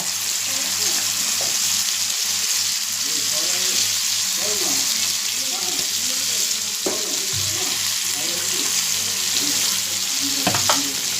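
Fish frying in a pan with a steady, close sizzling hiss throughout, some faint tonal sounds and low indistinct voices beneath it, and a couple of brief clatters near the end.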